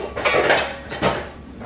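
Metal pots and pans clatter and clank as someone rummages in a kitchen for a lid: a few quick, close jangling knocks over about a second and a half.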